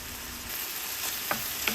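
Big rigatoni pasta and crushed Calabrian chili pepper being stirred together in a pot, giving a soft steady sizzle with a few brief scraping clinks from the spoon, fairly quiet and without talk.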